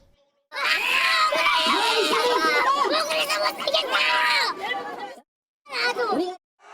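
Supporters protest outside a Korean court after a guilty verdict, a close, loud crowd shouting and screaming in continuous overlapping voices, breaking off briefly before another burst.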